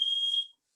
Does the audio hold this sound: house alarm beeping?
yes